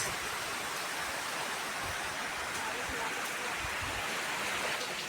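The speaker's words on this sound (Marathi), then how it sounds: "काय पडतोय पाऊस" Heavy rain pours down steadily outdoors, a dense, loud, unbroken hiss that lasts throughout, with no break in the downpour.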